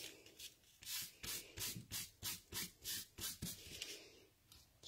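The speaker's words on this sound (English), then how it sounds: "my embossing buddy." An embossing buddy anti-static pouch is rubbed over cardstock in a crafting session, making about a dozen soft, rhythmic swishing strokes, close and quiet.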